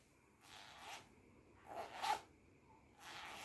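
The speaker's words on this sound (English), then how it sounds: "Down, up and down, up and down. This is a zip." A clothing-style zipper pulled up and down three times in a quiet room, each stroke a short raspy zip, close and fairly soft with pauses between.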